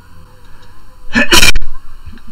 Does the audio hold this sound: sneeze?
yes